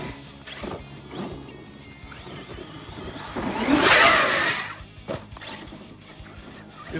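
Arrma Talion RC car fitted with paddle tires racing across an open field, its high electric motor whine swelling to a loud peak mid-clip before easing off, with scuffing and bumps around it.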